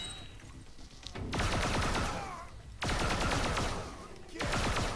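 Rapid video game gunfire in long sustained bursts from a fast-firing weapon, loud and close, separated by short pauses.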